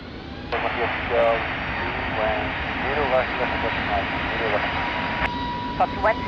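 A TAP Air Portugal airliner's jet engines roar steadily during takeoff at Lisbon Airport, a broad sustained rumble beneath intermittent radio-style voice chatter.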